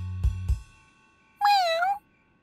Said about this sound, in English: Meow, meow, meow, meow, meow.